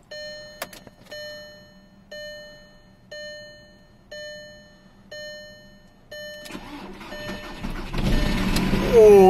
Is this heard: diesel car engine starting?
yes